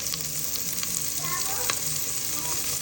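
Tomato dropped into a hot pan with lemongrass gives a loud, continuous sizzle with faint stirring scrapes, no talking.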